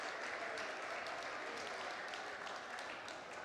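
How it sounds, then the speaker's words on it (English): Audience applause fills a church, steady dense clapping from a congregation throughout, gently tapering near the end. "thank God you clapped"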